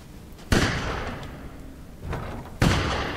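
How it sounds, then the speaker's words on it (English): Two sharp, loud gunshots in Resident Evil Village, about two seconds apart, each cutting in abruptly and ringing out briefly over a low background rumble. "Oh, gunshots."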